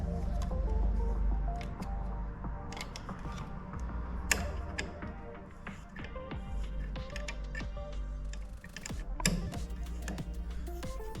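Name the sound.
tightening bolts on pellet stove vacuum switch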